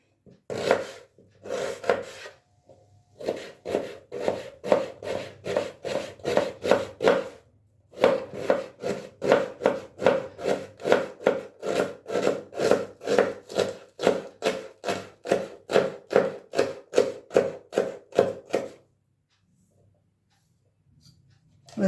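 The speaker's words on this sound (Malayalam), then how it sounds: "ഒരു സവാള എടുത്ത് ചെറുതാക്കി കട്ട് ചെയ്തിടാം" A knife chops an onion into small pieces on a cutting board in a steady, rapid run of close, crisp strokes, pausing briefly twice before finishing with a quiet stretch at the end.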